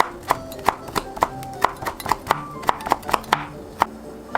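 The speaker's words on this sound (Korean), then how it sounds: "홍고추 한개도 잘게 썰어줍니다." A knife chops red chili pepper finely on a board in a quick, even rhythm of sharp, close taps, about three per second, with nobody speaking.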